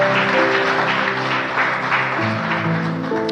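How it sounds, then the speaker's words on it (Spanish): A church congregation claps for Jesus during a Spanish-language service, a dense, sustained wash of applause with music tones underneath, loud and filling the room. "Dale un aplauso fuerte a Jesús."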